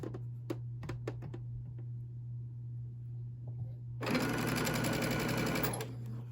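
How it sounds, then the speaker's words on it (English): Clicks and taps from fabric handling over a steady low hum are followed by a close sewing machine run of about two seconds, piecing quilt fabric for an I Spy quilt. "guide your fabric all the way underneath the needle to the very end"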